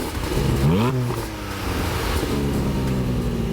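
A 2020 Porsche 718 Boxster GTS 4.0 flat-six engine revs up sharply, its pitch climbing and falling once, then settles into a steady, smooth drone, close and fairly loud with no talking.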